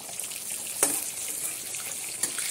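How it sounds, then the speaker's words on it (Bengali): Chopped bottle gourd sizzles in a hot wok with a steady, even hiss, and two brief metallic clinks ring out over the frying. "আমি এখন কড়াইতে লাউটা দিয়ে দিলাম"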